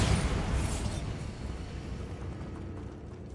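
A Bombarda spell blasts apart a barricade in Hogwarts Legacy, giving a loud broadband burst at the onset that decays into a long, rumbling debris tail.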